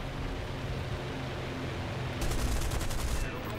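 Burst of aircraft machine gun fire in a Spitfire Mk Vb/trop combat flight game, a dense rapid rattle lasting about a second, loud over steady engine drone.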